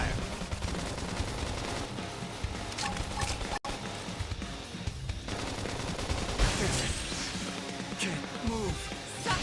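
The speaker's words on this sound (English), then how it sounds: "Now, topple them with some gunfire." Rapid bursts of gunfire during combat in the video game Xenoblade Chronicles X, dense and continuous amid layered battle effects and music, with voices calling out over the action.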